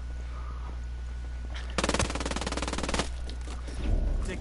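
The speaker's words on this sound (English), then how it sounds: "Taking heavy fire here." Heavy automatic gunfire in the Ghost Recon video game, a loud rapid burst of shots lasting about a second, followed by quieter scattered shots and clatter.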